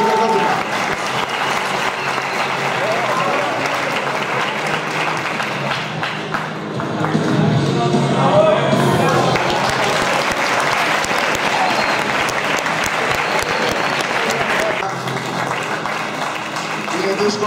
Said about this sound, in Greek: ένα πολύ καλό χειροκρότημα